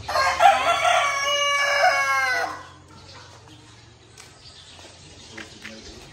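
Chickens with a rooster crowing loudly and nearby for the first two and a half seconds, harmonic cock-a-doodle-doo calls, then fading to faint background clucks and rustle with a low steady hum underneath.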